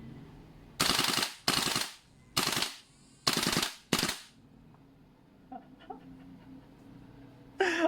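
An airsoft gun fitted with a Spitfire tracer fires five short full-auto bursts in quick succession, loud and close, followed by quieter handling clicks and one more brief burst at the end.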